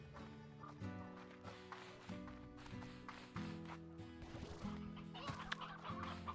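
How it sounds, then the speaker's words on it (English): Chickens cluck in the video game Slime Rancher 2, repeated clucks and short calls over a looping musical background, with light tapping sounds scattered throughout. "We're gonna grab all the basic chickens."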